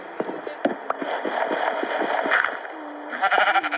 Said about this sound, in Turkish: Bu da bir koyun.